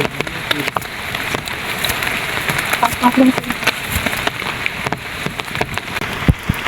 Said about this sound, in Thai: วันนี้ฝนตกทั้งวันทั้งคืนเลยครับผม